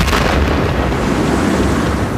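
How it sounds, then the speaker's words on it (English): A deafening sonic bang and air blast from a meteor impact on a city, heard as a dense, sustained roar of broadband rumble with no break, loud and close throughout. "The deafening air blast breaks through at more than 4 times the speed of sound"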